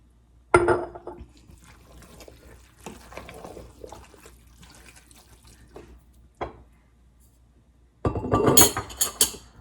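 Home canned beef stock pours from a quart jar, opening with a short splash, thinning to a quiet trickle, then gushing louder again near the end.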